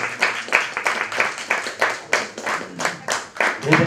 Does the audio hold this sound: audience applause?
yes